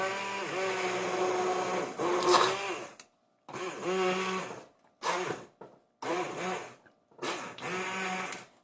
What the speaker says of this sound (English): because I'm using a stick blender, you can just go and do it right in the pot that it's in